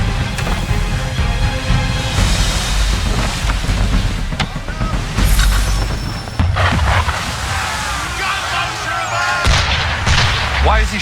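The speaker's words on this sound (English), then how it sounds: "Why is he shooting at us?" Enemy sailing ship firing its cannons at the player in Assassin's Creed III, with several heavy booming blasts over constant wind and sea noise, loud and close, spread across the scene.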